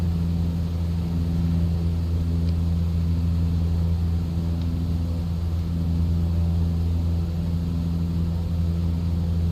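A light aircraft in Microsoft Flight Simulator drones steadily with a low propeller engine hum, constant and unbroken throughout, no voices on top.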